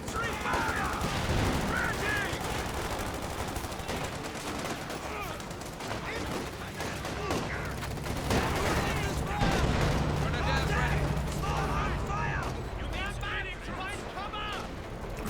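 Company of Heroes 2 battle: sustained machine gun bursts from an MG-34 and scattered rifle fire crackle alongside deeper explosions, with tank fire support, all under continuous game commentary from a voice.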